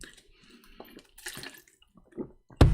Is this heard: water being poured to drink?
yes